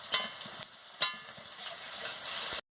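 Chopped onion and green chilli frying in a pan, an up-close sizzle with a couple of sharp stirring clanks before it cuts off abruptly.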